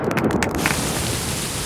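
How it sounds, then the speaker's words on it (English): Cartoon rain pours down in a steady, dense hiss, loud and continuous, with a few brief patters at the start and no talking. "Oh, it's raining."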